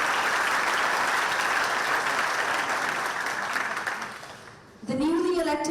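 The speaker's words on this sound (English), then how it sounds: "Can we please have a big round of applause" Loud, dense applause from an audience at the World Ranger Congress in Sauraha, Chitwan, fills the room, fading out near the end before a voice starts speaking.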